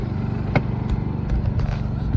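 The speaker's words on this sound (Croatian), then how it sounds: "Ovo je Honda inverter koji mi se odlično pokazao" A Honda inverter generator starting up and running, a low steady engine drone with a few brief clicks and knocks, close by.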